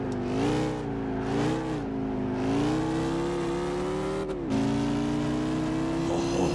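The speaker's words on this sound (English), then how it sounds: "that titanium exhaust sounds absolutely meaty" BMW race car fitted with a titanium exhaust in Gran Turismo 5, its engine holding a loud, steady droning note that rises and dips with throttle, briefly cutting out before resuming at a slightly higher pitch.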